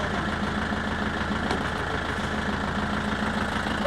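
A tractor engine idles steadily and close by at a bamboo-cutting site, with a constant low rumble and even mechanical knock and no pauses.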